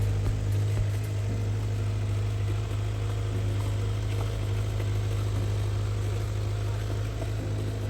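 Kawasaki Z900 motorcycle idling with its stock exhaust fitted: a steady, even low engine rumble held throughout at close range.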